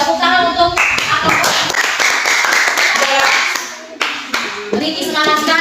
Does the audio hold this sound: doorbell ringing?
no